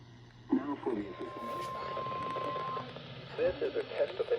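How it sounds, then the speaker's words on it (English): A steady electronic NOAA weather radio warning alarm tone sounds through a radio broadcast, holding one pitch for about two seconds between stretches of announcer speech. "This is a test of the NOAA weather radio warning alarm device"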